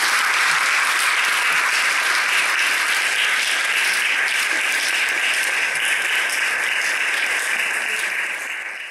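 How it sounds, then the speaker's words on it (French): An audience applauds again at the close of a French talk on Easter Island, loud, dense clapping sustained for nearly nine seconds before starting to fade at the very end. "je vous propose qu'on applaudisse encore une fois."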